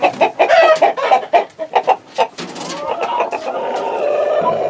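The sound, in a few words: chickens clucking in barn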